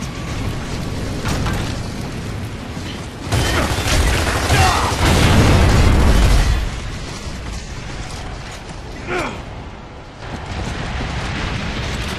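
Mortar shells burst in a war-torn battle scene from Gears of War: Judgment, rolling booms building to a heavy, sustained low rumble mid-way, then easing into a dense, noisy backdrop of distant impacts and clatter.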